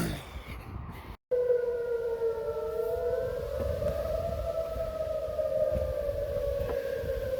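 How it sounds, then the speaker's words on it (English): A wailing outdoor civil defense siren in Mankato, Minnesota holds a steady, slowly wavering tone at a distance, briefly interrupted by a dropout, over a constant rumble of ambient noise. "They run some weird sounding sirens"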